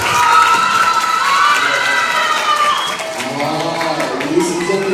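A crowd of children and adults at a church children's revival camp breaks into loud, dense applause with some cheering, continuing steadily throughout; voices rise beneath the clapping toward the end.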